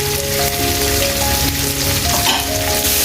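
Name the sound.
vegetables and chillies frying in a pan for egg fried rice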